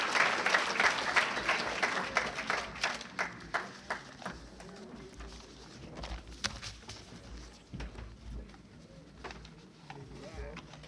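Applause at a cowboy hall of fame event for a 65-year-old rider, starting as a dense burst of clapping that thins into scattered claps with a faint murmur of voices underneath.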